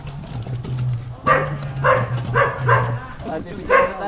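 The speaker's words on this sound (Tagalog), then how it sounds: "Ito yung aso." A dog barks in short bursts, about five yaps spaced unevenly, with a low hum and faint voices underneath.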